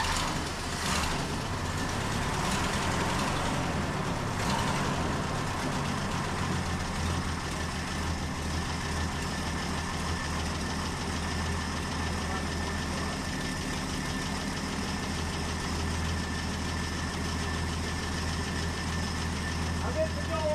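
An overhauled classic engine, troubled by a cam and lifter fault, runs at a steady idle with a continuous low rumble and faint ticking, a short start-up surge at the beginning, and voices speaking over it.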